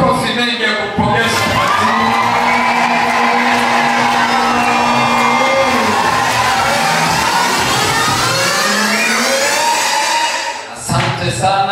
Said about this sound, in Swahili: Jamani, makofi mengi ya kupongeza.